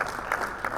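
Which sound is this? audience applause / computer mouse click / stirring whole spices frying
audience applause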